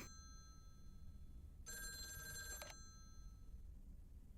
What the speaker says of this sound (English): But not before a phone call.